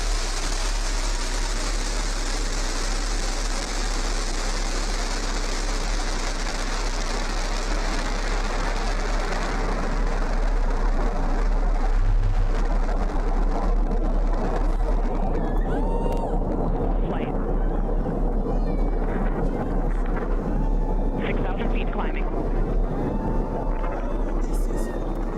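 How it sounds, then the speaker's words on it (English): The New Shepard rocket lifts off with a continuous, roaring engine rumble that holds steady and loud, broadband and crackling, while a voice speaks over it. "Liftoff. New Shepard has cleared the tower."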